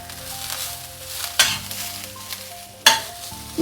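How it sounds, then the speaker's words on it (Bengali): Jute leaves sizzle softly in a pan over low-medium heat, broken by two sharp scraping stirs of a spatula, close up and without speech. "নাড়িয়ে দেব লো মিডিয়াম আঁচে রান্না করব একটু সময় ভাজবো খুব অল্প সময়"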